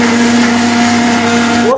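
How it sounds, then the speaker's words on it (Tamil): A mixer grinder blending oats and lotus seed powder whirs loudly and steadily with a high motor whine, then winds down abruptly at the end. "இது மிக்ஸி ஜாரில் அடிச்சுக்குவோம்."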